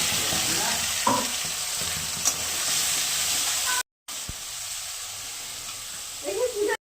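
Dried chili, bay leaf, ginger, garlic and onion fry in hot oil with a loud continuous sizzle and hiss, close up, broken by a brief silent cut, with faint talking.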